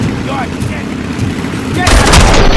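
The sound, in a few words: gunfire in video game RoboCop: Rogue City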